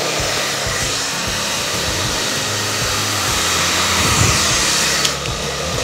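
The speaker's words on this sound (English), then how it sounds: "brush from the roots until the ends while having the hairdryer follow the brush" A hair dryer blows steadily and loudly throughout, a constant whooshing roar with slight shifts as it moves.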